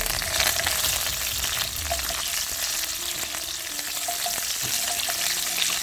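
Green chili and onion fry in a pan over a medium flame, giving a steady close sizzle with a few light clinks of stirring.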